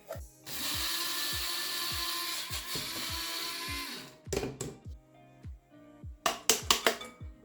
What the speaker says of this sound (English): I grind oats, quicker oats, with a spice grinder